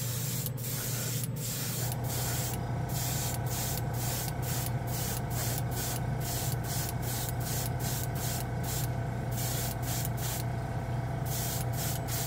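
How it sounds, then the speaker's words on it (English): Repeated short hisses of an aerosol can spraying color-shift paint, bursts of varying length in an uneven rhythm over a low steady hum. "so I don't have to stop while I'm spraying"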